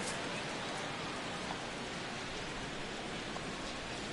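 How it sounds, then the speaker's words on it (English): Steady rain pours over a baseball stadium in the video game MLB 16 The Show, a dense, even hiss of falling water that holds constant throughout without any voices. "Alex Rodriguez steps in here to lead off the 6th as the rain continues to fall here."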